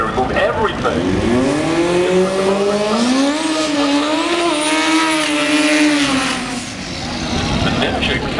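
A dragster with a 2-liter EVO 4G63 engine and two-speed automatic runs loud and close at an Englishtown drag strip, its engine note climbing and sweeping in pitch over several seconds, dipping briefly, then rising again.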